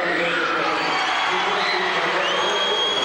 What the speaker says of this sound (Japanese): 大きな歓声が上がっています